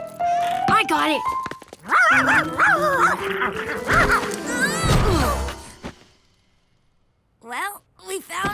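In a cartoon, a dog named Charky barks and whimpers over loud speech and scene noise. After a short silence, sharp yips and whines return near the end.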